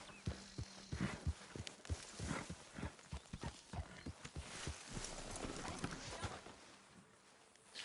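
Horse hooves clip-clop steadily in Red Dead Redemption 2, a run of quick, fairly loud footfalls with a rough galloping rhythm that continues throughout, with faint background noise and no clear talk.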